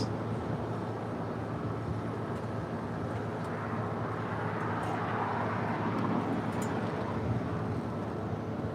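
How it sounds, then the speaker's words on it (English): A DHL Polar Air Cargo Boeing 777 at LAX gives a steady, broad jet roar that holds at a constant level from a distance, swelling slightly in the middle, with no voices. "we've got that DHL Polar Air Cargo 777"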